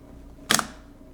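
A single sharp mechanical snap as the shutter button of a KMZ Zenit-C 35mm film camera is pressed and the shutter fires, close and crisp against near silence.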